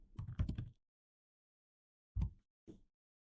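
Typing code on a computer keyboard: a quick cluster of close keystrokes, a pause, then two short separate taps, all fairly quiet against silence.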